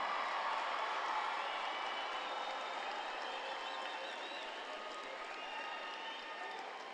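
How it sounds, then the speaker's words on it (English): A crowd claps in sustained applause at a high school graduation ceremony, a dense and fairly distant wash of hands that fades slightly toward the end. "let's get one more round of applause"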